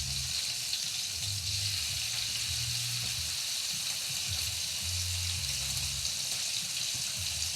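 Bacon fries in spitting grease with a steady, dense hiss and crackle, loud and close throughout.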